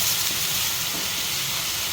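Tomatoes for tomato chutney sauté in a pan with a steady, even sizzling hiss, close and fairly loud, with no voices.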